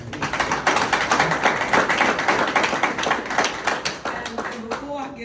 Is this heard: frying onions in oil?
no